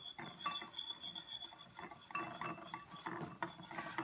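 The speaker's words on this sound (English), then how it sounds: "into a bowl with the salt and the flour and my whisk, and you're just going to whisk them together." A whisk scrapes and clinks steadily against a bowl as salt and flour are stirred together for a maple syrup pie, a close, busy rhythm of rapid metallic strokes with no talking.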